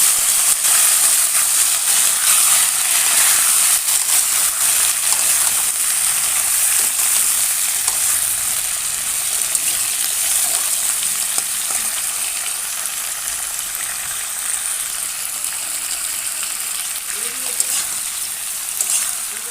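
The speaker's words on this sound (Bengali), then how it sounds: "এই যে আলু পটল আর গাজরগুলো যে কেটেছিলাম, এগুলো এবার তেলের মধ্যে ভেজে নেব" Cut potatoes, pointed gourd and carrots fry in oil in a pan, a loud steady sizzle with hissing and occasional stirring throughout, no voice.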